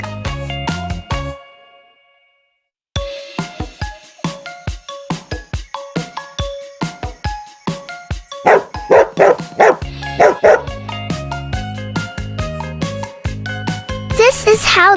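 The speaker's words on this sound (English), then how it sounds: "This is how dog looks like in real life." A dog barks in a quick run of loud, close yips and barks, repeated in bursts over bright children's background music.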